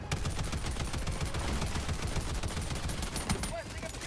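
Rapid automatic fire from the Tenderizer gun in Helldivers 2 rattles in a dense, continuous burst, loud and close, and keeps going almost without pause.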